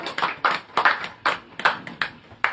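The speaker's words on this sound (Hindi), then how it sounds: "जोरदार करताल तालियों से स्वागत।" Audience at a book discussion and poetry event in Jharkhand welcoming a guest with applause, heard as a handful of sharp, separate clap bursts in an uneven rhythm, fairly close and without talk.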